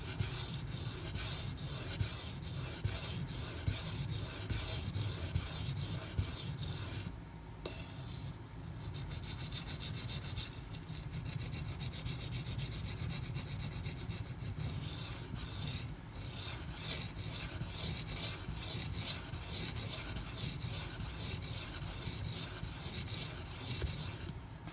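A Spyderco Smock knife blade rasps steadily across Gritomatic silicon carbide sharpening stones, close and continuous, with short pauses between runs of stroking.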